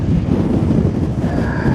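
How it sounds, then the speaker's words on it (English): Strong gusty wind on an Appalachian Trail mountain peak, a loud, rough buffeting roar blasting across the microphone without a break, with no voices. "The gusts are still pushing me around."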